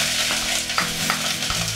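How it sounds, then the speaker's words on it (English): Chopped onions sizzle steadily in a hot pan, a dense crackling hiss broken by several scraping clunks of stirring, close and loud with no voices. "You start by frying some chopped onions until golden brown."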